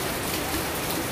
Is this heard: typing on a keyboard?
no